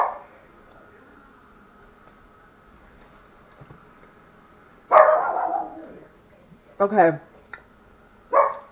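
Dogs bark indoors during a home cooking session with a bread machine: a quiet stretch, then a loud burst of barking, two more sharp barks and a final bark, with a person briefly speaking.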